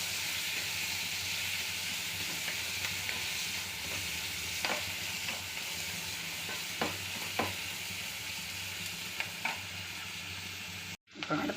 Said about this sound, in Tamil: வெங்காயம் நல்ல ஓரளவு நல்லா வதங்கட்டும்